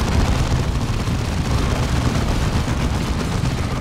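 Dense, continuous gunfire and explosions from the Dawn of War 2 campaign, a loud sustained barrage of rapid shots and booms with no pauses.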